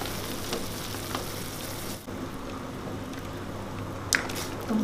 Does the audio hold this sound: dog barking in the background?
no